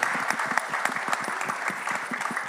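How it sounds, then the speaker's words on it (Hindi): An audience at a Bollywood song launch breaks into steady, enthusiastic applause, dense clapping sustained without pause. "सो बस उनके लिए जोरदार एक बार तालियां हो जाएं."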